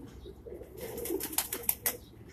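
A pigeon on a rooftop pigeon-flying setup in Karachi gives low, soft coos, followed by a few sharp bursts of wing flaps close by. The sounds are faint and brief, with no talk.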